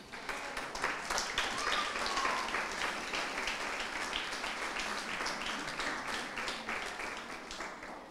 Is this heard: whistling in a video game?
no